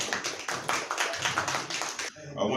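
Audience applause at a city candidate forum, a steady patter of many hands clapping for a couple of seconds before fading, with a voice speaking over it.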